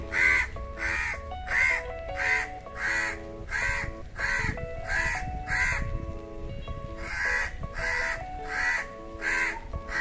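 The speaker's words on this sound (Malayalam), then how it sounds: "കാക്ക വെയിറ്റിംഗ്." A crow caws repeatedly in a steady rhythm, about a dozen sharp calls spaced evenly, fairly close and clear over quiet background sounds.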